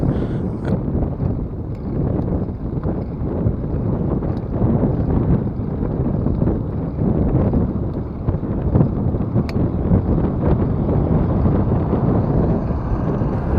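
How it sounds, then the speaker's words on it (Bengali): Strong, gusty headwind roars against a mountain biker's action camera along the Khulna-Mongla rail line project site, a loud continuous buffeting rumble that never lets up. "এখানে পুরো ঝড়ের মতোই বাতাস হচ্ছে, আর আমি বাতাসের উল্টো দিকে যাচ্ছি।"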